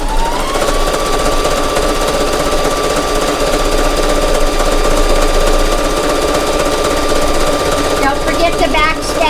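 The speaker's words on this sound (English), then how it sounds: "I'm going to go to this machine and I'm going to sew down just a small area" A sewing machine stitches down a small area of a basic cloth face mask in a steady, continuous hum that stays close and fairly loud throughout.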